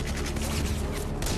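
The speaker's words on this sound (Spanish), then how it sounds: "los disparos y las explosiones que hay por todo el pueblo" Dense, continuous gunfire from a WWII battle around the Falaise pocket in a war documentary, loud, overlapping bursts of shots that form an unbroken crackling roar with no gaps.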